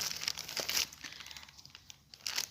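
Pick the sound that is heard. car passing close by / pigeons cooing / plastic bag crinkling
plastic bag crinkling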